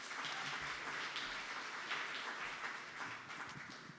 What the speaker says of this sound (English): Please give a big round of applause to Susanna Meaker